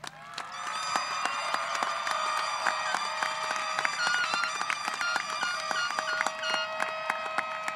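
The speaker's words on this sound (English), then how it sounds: "One more huge round of applause for our graduates" At Eastmark High School's 2023 commencement ceremony, a large audience gives the graduates a steady round of applause, dense clapping that rises quickly and continues at an even level with faint cheering, while sustained music plays along with it.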